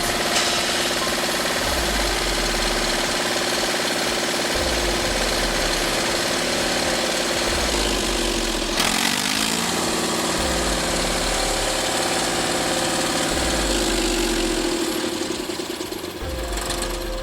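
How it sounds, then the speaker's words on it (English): A Valmet 359 tractor engine runs loudly throughout, a heavy, pounding diesel rhythm with a hard, rattling beat and a sharp surge partway through. "The Valmet 359 just roared to life from up high, and everyone stopped to stare."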